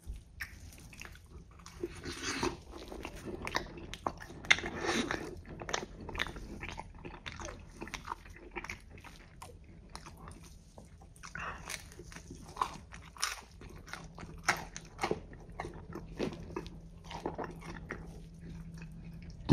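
Close, steady biting and crunching of a Domino's cheeseburger pizza with a slightly thick crust, topped with tomatoes, sauce and pickles, with repeated crisp bites and chewing for about twenty seconds and no talking.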